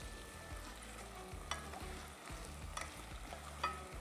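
Food being stirred in a pan on the stove during Ramadan meal cooking, a steady sizzle of frying with scraping strokes of a spoon at a slow, uneven rhythm, close and alone.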